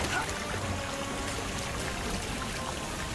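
Cartoon water effect of a hose spraying up at a fire, a steady rushing, pouring wash that runs unbroken for the whole stretch at moderate level.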